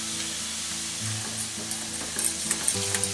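Flour sizzling in hot oil in a pan on a small stovetop burner while making a roux for vegetarian carbonara, a steady close frying hiss with a few light stirring taps toward the end, no talking.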